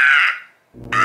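A person imitates a bird call with a loud, crow-like caw, then a brief pause before a second harsh call begins at the end.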